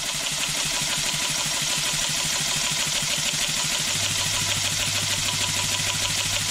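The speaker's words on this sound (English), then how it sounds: "I'm injecting the compressed air straight into the steam chest, and there it goes." Low-cost model steam engine running on compressed air fed straight into the steam chest, a rapid, even chuffing beat, close and steady, with a low hum joining partway through.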